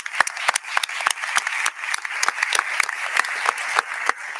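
An audience claps at a medical school white coat ceremony, giving a round of moderately loud applause made of distinct, uneven individual claps that carry on steadily throughout.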